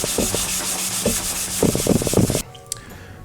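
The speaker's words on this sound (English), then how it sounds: "Okay, it's sanded down all of the high spots" A plastic Porsche bumper is sanded by hand with 220-grit paper, giving close, rasping back-and-forth strokes that quicken toward the end before stopping abruptly, leaving near silence.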